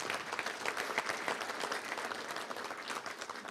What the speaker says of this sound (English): Give a big round of applause to all those great sponsors